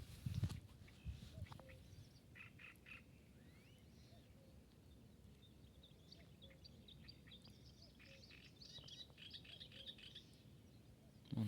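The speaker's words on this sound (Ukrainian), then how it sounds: "пташечок куча." Small birds chirp and tweet in scattered bursts at a distance over a quiet outdoor background, with a couple of louder knocks at the start and end.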